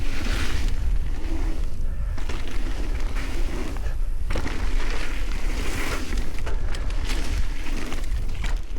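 Strong wind buffets the microphone outdoors on mountain bike flow trails at The Gap, making a loud, continuous roaring rumble with gusty swells and no voices.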